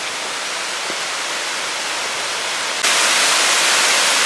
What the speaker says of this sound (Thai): เดินแป๊บเดียวก็ถึงน้ำตกห้วยทรายเหลืองแล้วนะครับ